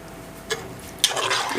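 Water is added in small amounts to a simmering South Indian sambar pot, giving a brief splash partway through followed by a steadier pour that runs to the end.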